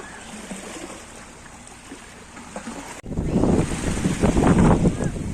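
Ocean surf rushes and washes in nearby on a beach in Qatar, getting louder halfway through, with gusts of wind buffeting the microphone.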